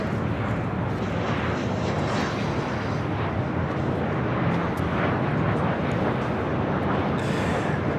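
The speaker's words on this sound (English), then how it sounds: "This arrival is Alaska Airlines 1160 coming in from Portland on the 737-900." Alaska Airlines Boeing 737-900 arriving at LAX from Portland, a steady broadband jet roar holding loud and even throughout with no talk over it.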